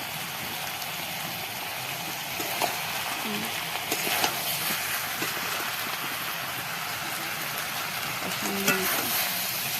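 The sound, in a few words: chicken and potatoes frying in pan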